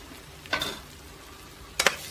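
Two short scraping strokes of a spoon stirring spaghetti sauce seasoned with black pepper and salt, close-up with a quiet pause between them and no talking.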